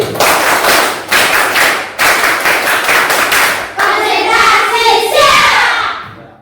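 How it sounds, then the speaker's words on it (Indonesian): A group, likely students in a classroom, claps in a rhythmic routine: short bursts of quick claps in repeated patterns, loud and close, with a brief pause before a final faster sequence that fades at the end. "Tepuk konsentrasi."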